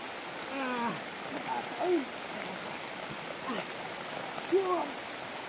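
Rain falling outdoors in a steady, dense hiss that carries all the way through, while people talk and exclaim over it.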